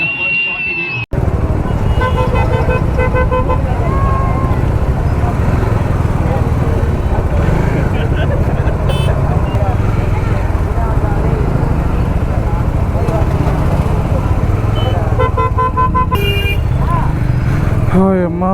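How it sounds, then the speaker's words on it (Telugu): Heavy road traffic surges close by, a dense continuous roar of engines with scattered horn toots near the start and again near the end. "అమ్మా ఫుల్ అంటే ఫుల్ ట్రాఫిక్ ఉంది అసలు."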